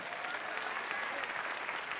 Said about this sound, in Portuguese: Aplauda Ele bem forte